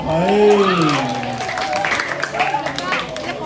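An audience claps at a Balinese Barongswari performance at a temple, scattered applause rising under loud, drawn-out vocal calls and crowd voices.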